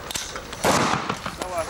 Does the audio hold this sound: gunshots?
yes